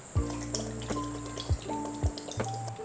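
Fuel additive is poured into the gas tank of a Mazda Miata: close liquid glugs and drips with a few soft periodic gulps as the bottle empties.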